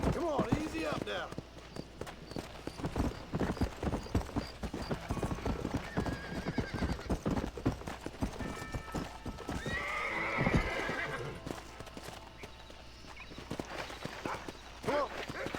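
A horse in Red Dead Redemption gallops with loud, close, rapid hoofbeats throughout and whinnies midway, while someone talks over the running.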